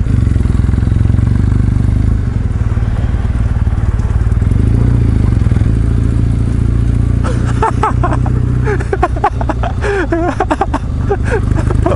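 A Kawasaki W650 motorcycle is ridden, its engine giving a loud, steady low rumble with wind noise throughout, and a rider's voice briefly joins near the end.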